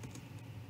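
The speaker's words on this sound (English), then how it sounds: "Next, you want to type in import" Keystrokes on a computer keyboard while entering a command into a Windows wallet, a short steady run of close taps under a constant low hum.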